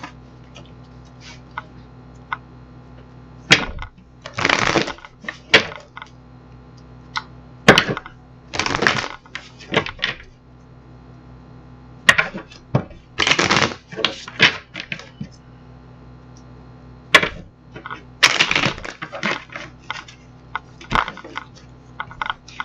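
Tarot cards being shuffled by hand: repeated papery riffles and taps in several bursts, close and clear over a low steady hum, with no speech.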